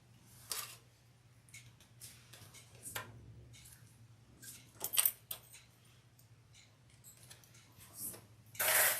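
Metal clips snapped onto freshly glued leather pieces for a messenger bag, heard as a series of sharp close clicks and rattles spread unevenly over a quiet background, with no voices.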